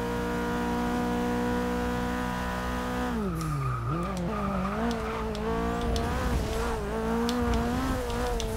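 A race car in Forza Motorsport 6 holds a high steady engine whine, dips briefly as it shifts into fifth gear and climbs again, with tire squeal and rough rumbling texture joining later.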